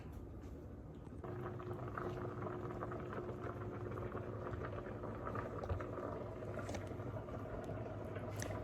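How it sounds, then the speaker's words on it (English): Several pots of potatoes boil for preserving, with a steady bubbling hiss that grows a little fuller partway through, alone without any voices. "boiling all those potatoes"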